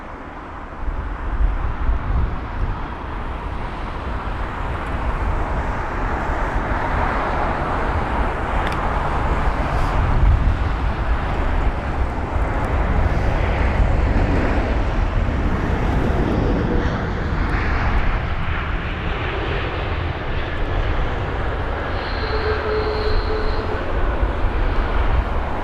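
An Airbus A321neo arrives at London Heathrow with a sustained, loud jet roar that swells to a peak midway, then fades slowly, with faint whining tones near the end.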